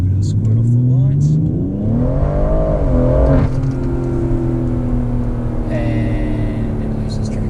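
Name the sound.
BMW M140i accelerating hard off the lights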